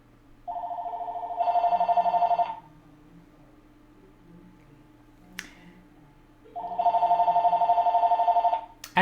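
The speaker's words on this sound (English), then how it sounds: "I'm going to pick up my cell phone and dial my house right now." A home Asterisk phone system rings after a call comes in from a cell phone: two long electronic ring bursts several seconds apart, close and clear, with a click between them and no talking.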